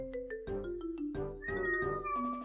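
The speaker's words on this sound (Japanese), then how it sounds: "猫鳴いてる。" A cat meows several times in short, quiet, separate calls, each rising and falling, with faint gaps of near silence between them.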